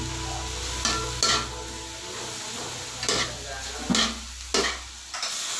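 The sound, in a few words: stirring Bicol Express in a frying pan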